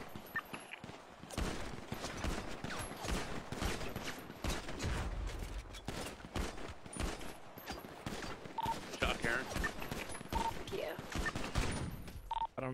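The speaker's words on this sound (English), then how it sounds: "You're shooting me, man." Dense bursts of video game gunfire from a GTA team deathmatch, rapid overlapping shots filling the whole stretch, with players talking over the shooting.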